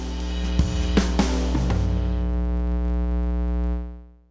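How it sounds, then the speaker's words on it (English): A low, buzzing electrical hum with rich harmonics drones steadily, broken by a few small crackles early on, then cuts off and fades. "If you want to add static electric hum"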